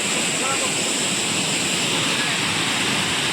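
Ozar waterfall at Bhiravande, Kankavli in the Konkan region roars with a steady, loud broadband rush of falling water that stays constant throughout, without a break and with no clear voices over it.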